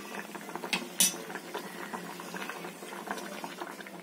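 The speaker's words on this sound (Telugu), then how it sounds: "దీన్ని పొయ్యి మీద పెట్టుకొని పులుసు మరగనిద్దాం" Fish tamarind gravy simmering on a stove, a steady low bubbling with a couple of brief metallic clinks near the start.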